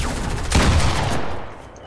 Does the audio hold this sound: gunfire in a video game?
yes